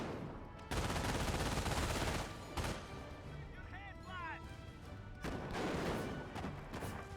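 Bursts of MG42 machine gun fire in Company of Heroes 1, loud rattling volleys near the start and end with a quieter battlefield stretch between, set against game effects.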